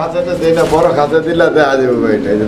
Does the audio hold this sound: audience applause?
no